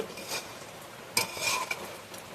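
A spoon stirs and scrapes through a thick banana flower and raw chickpea curry in a pan, two or three close, brisk strokes with no talk.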